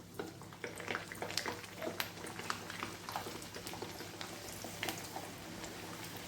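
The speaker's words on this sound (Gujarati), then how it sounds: "હવે આપણું તેલ આવી ગયું છે એટલે પૂરી ઉમેરી દઈશું." Tomato puris are dropped into hot oil and fry with a steady crackling sizzle. Dense bubbling pops and spits run throughout at moderate loudness, close by, with no voices.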